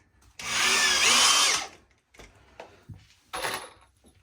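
Power drill driving screws into a wooden target stand: one long loud whirring burst, then several short drill bursts with small knocks between, close up and without talk.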